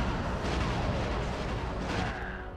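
Turret blown up in the Star Wars Republic Commando video game, a dense rumbling explosion with crackling debris that fills the clip and fades slightly at the end.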